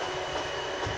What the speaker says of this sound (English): Here comes in a District 9 train as well